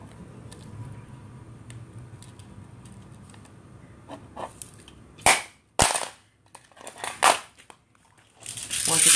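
A knockoff PSP handheld console is smashed, giving a few sharp, loud cracking impacts with quieter crunching and rattling between them after a mostly subdued start.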